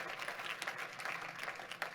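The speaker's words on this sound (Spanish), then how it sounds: "Denle un fuerte aplauso al Rey de la Gloria conmigo en este momento" A church congregation applauds in a steady stretch of clapping, fairly soft and somewhat distant, with scattered sharper claps standing out from the crowd.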